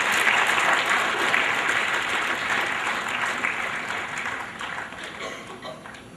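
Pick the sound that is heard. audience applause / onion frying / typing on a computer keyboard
audience applause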